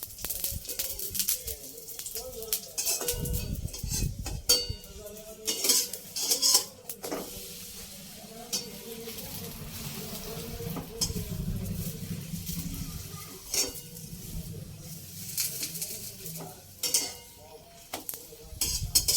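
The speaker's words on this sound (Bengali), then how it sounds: "পিঠ সেঁকা হয়ে গেছে, এবারে তেল দিয়ে ভেজে নেব।" Oil sizzles in a pan as paratha flatbread fries in white oil, with utensil scrapes and clinks against the pan, and brief voices in the background.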